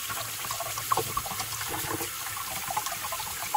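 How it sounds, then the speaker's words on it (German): Cold water runs and splashes steadily over sushi rice being rinsed in a bowl, a continuous trickling wash with small bright splashes, close and moderately loud with no voices. "Und diesen werden wir erstmal kräftig durchspülen, damit wir den Reis von Stärken befreien."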